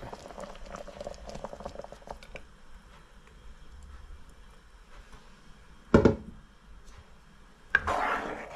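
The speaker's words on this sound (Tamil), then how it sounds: "இது நல்லா பபிள் வந்து இது கொதிக்கிற நேரத்தில்" Steady low bubbling and simmering of mor kuzhambu, a buttermilk curry, on the boil in a pot, with a couple of louder clanks partway through and a sharp burst near the end.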